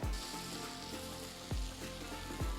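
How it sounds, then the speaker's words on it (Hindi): Roughly chopped ginger and garlic tipped into browning onions in a pan, a steady sizzle of frying with three sharp thumps of stirring or adding, close and fairly loud, no talking. "अब मैं इसमें अदरक और लहसुन जो मैंने रफली चॉप किया है वो डाल दूंगी"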